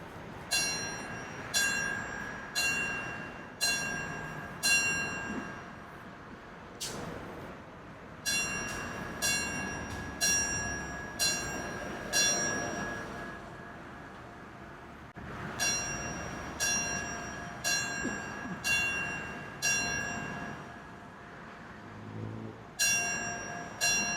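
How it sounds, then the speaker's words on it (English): A memorial bell tolls in repeated sets of evenly spaced, ringing strikes at an outdoor service for fallen Arlington County firefighters, each strike sustained with long decay and brief pauses between the series. "we will toll the bell in remembrance of those firefighters from Arlington County who have died in service to their community"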